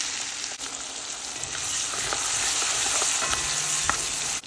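Tadka of cumin seeds, mustard, garlic, hing, dry chili and onions frying in hot ghee for dal, a steady close sizzle with faint crackles and stirring, no talking.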